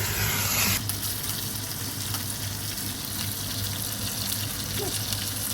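Lamb sizzling in a hot pan for a tajine, a steady, fairly loud frying hiss that holds evenly throughout with no talk over it.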